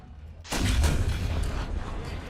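Single loud tank cannon shot from an M60A1 D.C Ariete in a war video game, a sudden close boom followed by a short rumbling tail.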